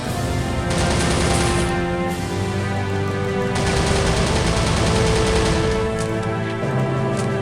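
Commandos in Soldiers: Heroes of World War 2 shoot in dense, continuous gunfire, with rapid machine-gun bursts and loud overlapping shots alongside a sustained musical drone.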